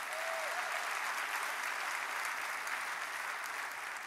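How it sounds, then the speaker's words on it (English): A church congregation applauds in praise during a sermon, a steady, dense wash of many hands clapping that holds evenly for about four seconds, with no talk over it. "Give the Lord a hand clap of praise."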